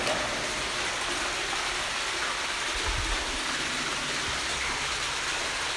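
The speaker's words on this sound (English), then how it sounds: "Almost two little waterfalls here." Two small waterfalls splash inside an underground water penstock, a steady, even rush of falling water filling the space at moderate level with no voices.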